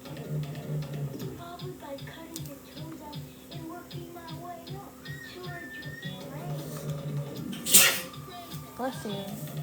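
A single sharp sneeze breaks out near the end, indoors beside a slow wood-burning project, over a steady low hum and soft ticking clicks.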